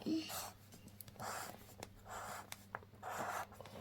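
Green marker on paper writing the letter E for a kids' egg drawing, a few soft scratchy strokes in short bursts, faint and close.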